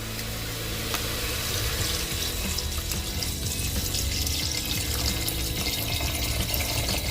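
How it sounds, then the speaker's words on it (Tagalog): Spring mineral water pours steadily into a cooking pot for broth in a rural outdoor cook-up of wild chicken, making a continuous close rushing splash with no talk. "pwede na natin lagyan ng tubig para sa sabaw natin"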